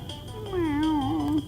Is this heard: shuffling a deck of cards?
no